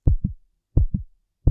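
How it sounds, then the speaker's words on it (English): Heartbeat sound effect: three loud, close lub-dub pairs at a steady, even pace, each double thump clearly separated by silence, with no other sound. "Both have racing hearts"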